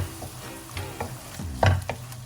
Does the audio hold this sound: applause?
no